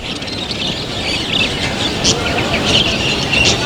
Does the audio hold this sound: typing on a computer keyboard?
no